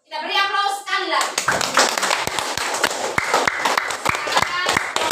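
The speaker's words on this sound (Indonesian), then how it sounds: "Kita beri aplaus sekali lagi" Children in a classroom clap together in a burst of applause that begins after a short sung or spoken line, the hand claps dense and close, with a voice talking over them.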